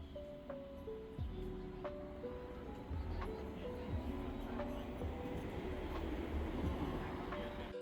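A Sydney light rail tram rolling along its tracks, with a steady rumble and soft clicks and clacks from the rails, faint tonal whines that rise and fall, and quiet at a moderate distance.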